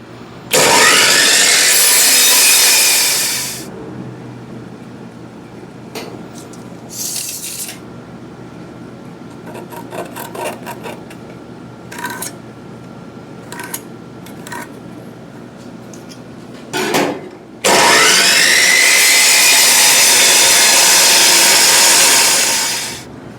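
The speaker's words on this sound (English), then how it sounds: "I'm just going to cut off, make that a square, and then cut them up into 33-inch pieces" Power saw cutting wood pieces for a workbench, two loud sustained cutting bursts at the start and end, with quieter knocks, clatters and handling noises of the boards between them.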